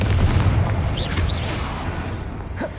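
A fire spell detonates during a giant spider fight in the game Hogwarts Legacy, a deep booming burst under a steady low rumble, followed by a couple of brief whooshing magical accents, with no talk.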